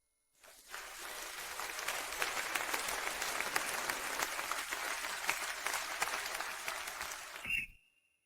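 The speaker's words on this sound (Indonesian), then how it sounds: "Mari kita sambut dengan tepuk tangan meriah kedua pasangan baru kita untuk naik ke atas panggung." Applause from a crowd welcoming a newly engaged couple onto a stage, a sustained dense wash of clapping lasting several seconds before stopping abruptly, with a faint whistle near the end.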